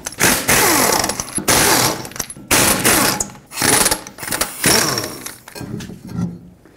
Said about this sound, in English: Use a 21 millimeter socket and take off all five of your lug nuts so we can take the wheel off.